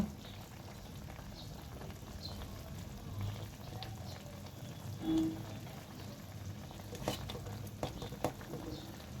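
A pot of bitter gourd curry comes to a boil with soft, continuous bubbling and faint stirring, quiet and close, with a few small clicks and knocks toward the end.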